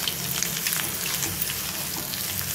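Egg fry seasoned with salt, chilli powder and garam masala sizzles steadily in hot oil, a close, dense crackle with no voices.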